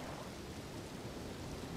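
Steady rain falls in the Elden Ring video game, a constant even wash of soft hiss with no breaks, fairly faint and alone.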